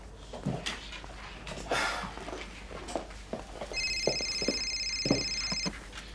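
A telephone rings indoors, its repeating electronic ring starting partway through and lasting about two seconds, heard over soft thumps and movement in a quiet room.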